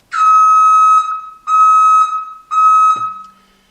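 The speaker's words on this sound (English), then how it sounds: "this one here, this is for my reverse beeper" Reverse beeper on a Kubota 5740 tractor sounds three loud, steady electronic beeps of about a second each, evenly spaced and heard close up inside the cab, followed by a brief low thump.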